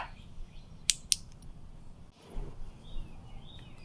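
Hose being pulled from the A/C line of a 2012-2013 MK6 VW Golf R with a leaking, fan-damaged line: two sharp creaking clicks near the start, then soft rubbing and shuffling against a low background hum.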